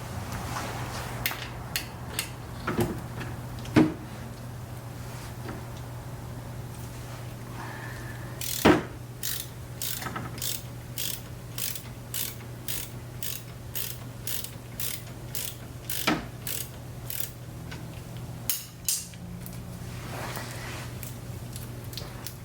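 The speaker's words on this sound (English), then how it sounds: "So we're going to use this 14mm, this long wrench." A long 14mm wrench works a brake caliper bolt loose, giving a run of sharp ratcheting clicks in quick rhythm with a few louder clunks, close by over a steady background hum.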